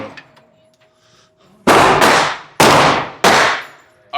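Four loud, sharp gunshots from a Military Armament Corporation Mac 5 at an indoor shooting range, each cracking close by and ringing out in the room's echo. They follow a quieter stretch of faint background noise.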